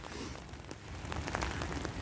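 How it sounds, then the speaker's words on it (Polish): Steady rain falls outdoors on a warm day along a walking route, a dense close patter of drops with a few sharper splashes, with no talking. "ten deszcz pada"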